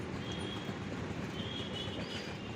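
A train rumbles at Surat railway station in Gujarat, a steady rolling noise with faint squeals, moderately loud and continuous throughout the short stretch.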